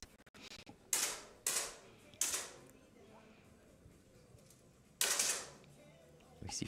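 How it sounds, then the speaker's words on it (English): Air pistol shots fired during a bronze medal competition match, heard as a handful of sharp, loud pops with short decaying tails, spaced irregularly across the moment with quiet gaps between. "Let's wait for the first competition shots."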